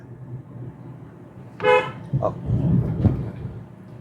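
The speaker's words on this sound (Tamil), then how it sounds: "ஹாரன் ஒரு முறை" A single short car horn toot sounds nearby, followed by engine and road rumble as a vehicle moves.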